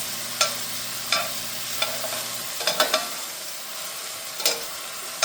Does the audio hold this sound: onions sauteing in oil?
yes